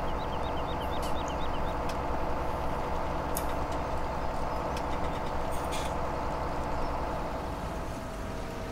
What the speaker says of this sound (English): And this is a beast of a tractor.